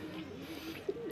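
Pigeons coo close by, a soft low warbling call that rises and falls in short phrases over a quiet background.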